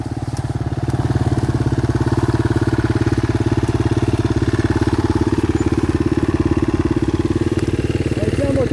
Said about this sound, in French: Tiens, moto, je vais embarquer dessus.